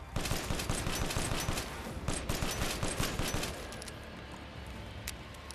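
Rapid gunfire in the video game Resident Evil Village, dense bursts of shots for about three seconds, then quieter scattered shots and game ambience.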